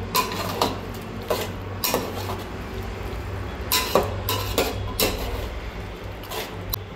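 A spoon scrapes and clinks against a pot while dum biryani is stirred with coriander. Several irregular metallic knocks and scrapes sound close by over a quiet background hum.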